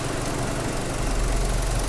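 A BMW 320i petrol engine idles steadily, a smooth, continuous low hum and rumble with no talking over it.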